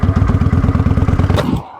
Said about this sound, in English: I let out the clutch a little bit and give it some gas.